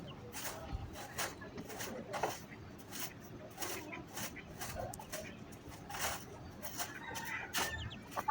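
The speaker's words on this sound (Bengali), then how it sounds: "মুরগিগুলো খুব বিরক্ত করে" Chickens cluck around a rural Bangladeshi homestead, short calls scattered through the whole stretch at moderate distance, a rooster-like note here and there, with faint voices and yard noise underneath.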